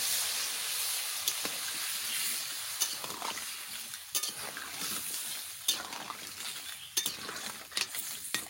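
Water poured into frying crab masala in a pan, bursting into a loud hissing sizzle with spatula stirring and clinks of metal against the pot, close and busy.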